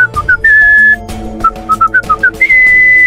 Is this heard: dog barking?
no